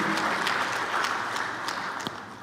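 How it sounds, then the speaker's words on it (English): Steady audience applause fills a science congress hall after a professor's talk, dense clapping that holds at constant loudness and tapers slightly near the end. "A round of applause once again for Prof. Nesamvuni."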